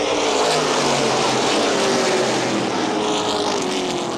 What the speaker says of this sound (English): Off turn number 4, green flag out. We're off and racing.